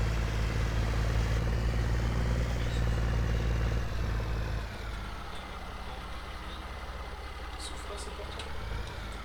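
A modded Steyr tractor fitted with a mulcher drones in a farming video game. Its engine hums loudly and steadily, then drops to a quieter, lighter idle about halfway through.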